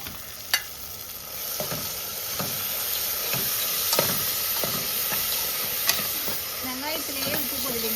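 Onions and tomatoes sautéing in a pan with salt, giving a continuous hissing sizzle broken by spoon scrapes and occasional sharp clinks against the metal, close by, with a faint voice in the background.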